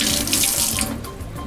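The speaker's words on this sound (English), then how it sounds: "Then turn off the water." A faucet runs into a sink during hand washing, a close steady splash that thins and fades as the water is turned off.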